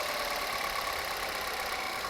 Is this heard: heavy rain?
no